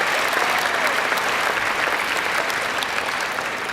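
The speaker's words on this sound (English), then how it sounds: "Give yourselves a round of applause." Graduates at a Blue Ridge Academy high school graduation ceremony clap for themselves, a dense, steady wash of applause from a large crowd filling the space at constant loudness.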